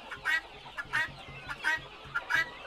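Chickens at a poultry market ahead of Lebaran give about five short clucking calls in a steady rhythm, fairly close and moderate in volume, over a low background hum.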